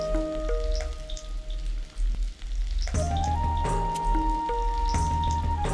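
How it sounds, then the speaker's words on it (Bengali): Potato pieces fry in hot oil with a crackling, bubbling sizzle that runs throughout, while sustained musical tones play over it. "আলুগুলো বেশ একটু লাল লাল করে ভালো করে ভেজে নেবে।"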